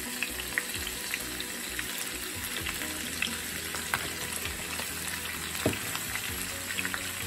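A steak, potato and bacon casserole seasoned with seasoned salt, onion powder and white pepper sizzles steadily while a spoon scrapes and stirs through it, with a few sharp clinks against the dish rising above the constant frying hiss.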